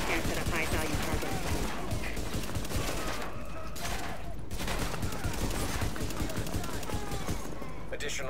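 Sustained, heavy gunfire in Tom Clancy's The Division rattles without pause, with dense overlapping bursts and one brief lull partway through.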